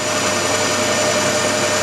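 Aluminium being turned on a lathe with WD-40 as cutting lubricant gives a steady, loud, broadband machining whir that continues evenly throughout, with no talk.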